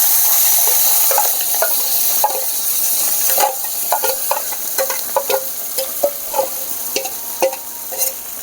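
Small fish such as tangra frying in oil in a wok, a loud hissing sizzle at first that settles into crackle with repeated spatula scrapes and taps, close up and without voices.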